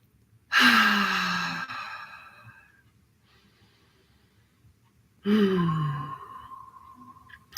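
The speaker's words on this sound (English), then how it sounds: "Take a couple of connected breaths." Two long, deep breaths taken slowly and close to the listener, each a smooth swelling exhale or sigh that fades out, separated by a few seconds of near silence during a calm guided heart-centred meditation.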